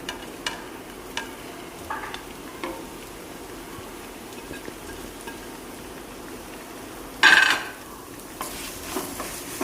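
Onion sizzling and being stirred in a pan while making Kerala-style chicken cutlets, a steady crackle with scattered scraping stirs and one louder clatter near the end.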